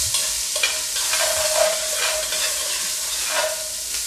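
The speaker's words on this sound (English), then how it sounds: "We're going to caramelize this, which means we're just going to keep it stirring around until it turns a very wilted brown." Onions caramelizing in a frying pan: a steady, close sizzle with a soft hiss, punctuated by scraping strokes of a utensil stirring them around, no voices.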